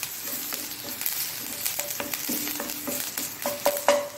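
Spices roasting in a pan for Mangalorean-style sambar, with curry leaves, coriander seeds, mustard seeds, black pepper and fenugreek: a steady close sizzle broken by repeated scraping and clinking stir strokes, no voices.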